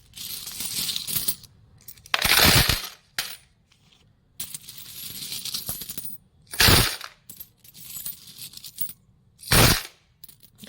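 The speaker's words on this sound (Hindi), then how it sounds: "अब मैं इन सिक्कों को डाल देती हूँ गुल्लक में" Heavy coins are poured into a piggy bank in several separate bursts, each a loud jangling clatter of metal on metal, with quiet pauses and small clinks in between.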